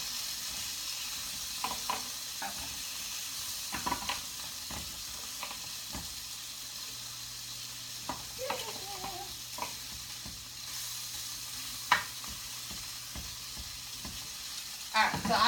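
Sausage frying slowly over moderate heat in a pan, a faint steady sizzle and hiss with occasional light clicks and taps, fairly distant and quiet throughout.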